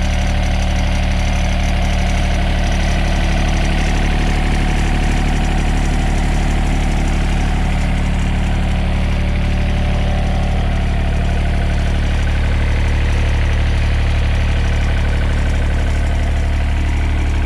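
A 2010 John Deere 1445 4x4 diesel mower's engine idles steadily with the hood open, a continuous low rumble and mid-range drone that holds even for the whole stretch, with no talking over it.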